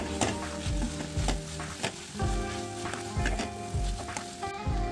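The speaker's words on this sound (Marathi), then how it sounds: "परतवून घेऊ." Squeezed wild greens with fresh grated coconut and salt are tossed and stir-fried in a pan, giving a steady sizzle broken by rhythmic spatula scrapes and knocks, close and alone.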